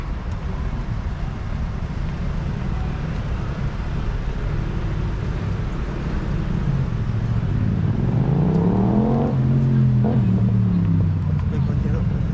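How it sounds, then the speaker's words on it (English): Night traffic on a London street, a steady broad roar of passing cars with a vehicle sweeping past near the end. "Traffic."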